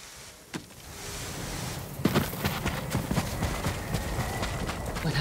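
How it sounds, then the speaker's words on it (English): Horses gallop in the video game Ghost of Tsushima, with a rapid, steady drumming of hooves that grows louder and continues to the end. "Let's get the horses."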